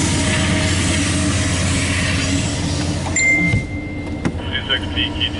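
CSX Q216-03, a loaded autorack freight train, rolls past with a dense steady rumble of wheels and cars, then thins out as a thin squeal rises and metallic clinks ring near the end; voices briefly in the background.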